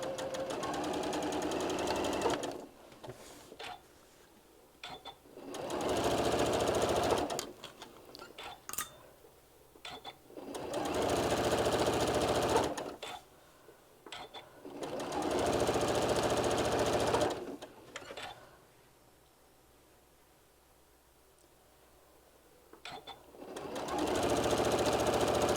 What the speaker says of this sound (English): I'm going to sew from here all the way to the other side